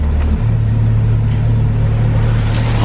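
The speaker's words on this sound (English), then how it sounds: "This car needs to make more noise." A Porsche GT3 RS engine runs while driving, a loud low rumble that lifts slightly in pitch as it pulls and then holds steady and close, without speech.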